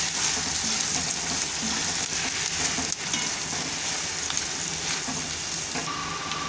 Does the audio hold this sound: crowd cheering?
no